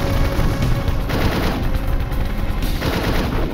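Machine gun fire rages in a battle during the 1983 occupation of Grenada, with US Navy SEALs fast-roping into fire from troops below. Loud, dense automatic bursts rattle continuously with heavy booming thuds for a few seconds.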